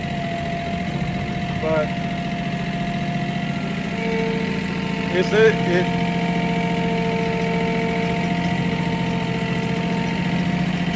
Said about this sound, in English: It's not small, a 50 horse tractor.